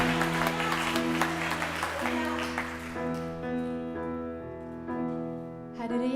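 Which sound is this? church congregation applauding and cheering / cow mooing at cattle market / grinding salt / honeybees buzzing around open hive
church congregation applauding and cheering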